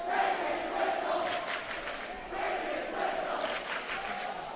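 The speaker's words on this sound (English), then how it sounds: "Legend crowd's not happy about that." A high school boys basketball crowd at a Regis Jesuit vs. Legend game reacts unhappily to a foul call, with loud rumbling shouts and jeers from the stands that swell and dip over a few seconds.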